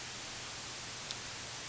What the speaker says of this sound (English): then we can select white noise as well